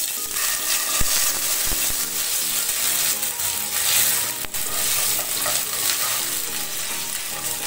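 Small cardamom seeds and ginger paste sizzle in hot oil, a dense continuous frying hiss with occasional pops and scraping clicks, close and steady throughout.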